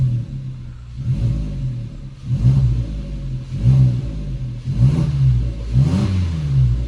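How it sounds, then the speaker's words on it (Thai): A Suzuki Jimny's engine revs in a series of short throttle blips through a custom exhaust, its deep note rising and falling roughly every second, close and loud. "ขอเร่งเครื่องเบาๆก่อน"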